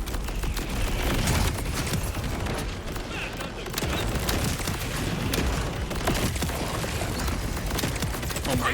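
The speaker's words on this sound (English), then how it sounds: "It's an explosion fest." Dense, continuous barrage of explosions and rapid gunfire from a Borderlands 4 firefight on hard difficulty, loud and sustained throughout with booming low-end impacts and no clear pauses.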